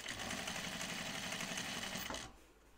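A sewing machine stitches a quarter-inch seam on a fabric pocket bucket with a fast, steady mechanical whir close by. It runs for about two seconds and then stops abruptly.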